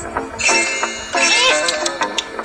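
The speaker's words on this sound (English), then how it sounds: "Two cats." A cat meows loudly and close up, two or three distinct whining calls in quick succession against a steady background hum.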